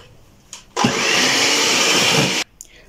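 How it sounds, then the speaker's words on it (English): An electric mixer beats cake batter after a cup of vegetable oil is added for a fruit cake, running loud and steady for under two seconds after a few soft clicks, then cutting off. "I'll then add in a cup of my vegetable oil and then beat it until it is well incorporated."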